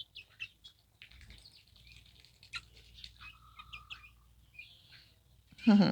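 Pet birds on a hobby farm give scattered high chirps and short warbling calls over quiet background, with a louder burst of rustling close by at the end.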